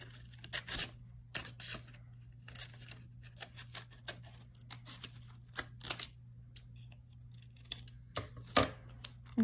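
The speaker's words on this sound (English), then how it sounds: "I'm going to take the scissors. I'm going to cut out this big, nice, fluffy tree here." Scissors snip through paper to cut out a large fluffy tree shape for a mail-art collage: quiet, irregular crisp snips and rustles over a steady low hum, with no talking.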